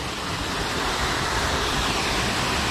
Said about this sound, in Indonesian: Akhirnya kita sampai ke air terjun